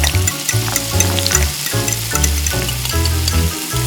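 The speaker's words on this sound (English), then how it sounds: "Next, put the octopus in the pan. Then, add the prepared sauce." Octopus with sauce sizzles loudly in a hot pan, a close, dense crackle and bubbling with low rhythmic churning as the food cooks.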